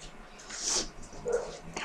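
A pet dog whimpering, a couple of short high whines at moderate distance in a quiet room, with little else around them.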